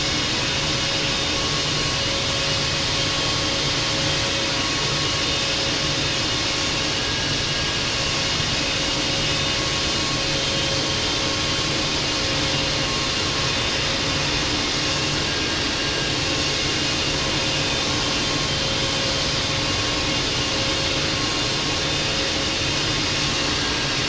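An American Airlines Boeing 777-200 taxiing in the flight simulator game Infinite Flight, its jet engines making a loud, unbroken, even drone with a faint steady whine throughout.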